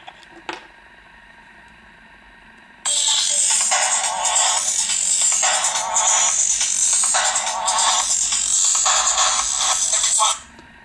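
Audio playing through a mobile phone's loudspeaker, a bright, tinny, continuous sound that starts suddenly after a short quiet stretch, runs steady and fairly loud for several seconds, then cuts off.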